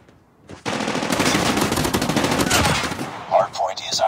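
Sustained automatic rifle fire from the HVK 30 in a Call of Duty Hardpoint match, a dense rapid burst lasting several seconds, loud and close, then a few sharp in-game effect chirps as it stops.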